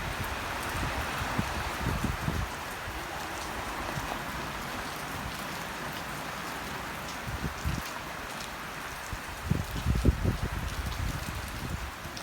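Continuous rain in a village patters and hisses on surfaces throughout, with occasional low wind thumps and a few heavier drops near the end.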